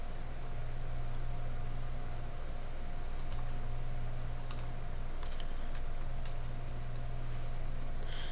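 Computer keyboard keys are pressed in a few scattered, quiet clicks, single taps and a short cluster, over a steady hum and hiss with no talking.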